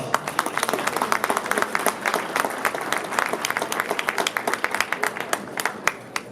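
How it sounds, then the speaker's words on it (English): An audience at a unity dinner applauds Girl Scout members, a dense steady round of clapping from many hands that carries on for several seconds, loud and close, with individual claps popping out near the end. "Please give them a round of applause"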